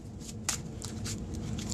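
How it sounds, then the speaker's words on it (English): A Cardfight!! Vanguard deck is shuffled in quick riffling bursts, close and fairly soft, with no talking. "you then proceed to start shuffling your deck"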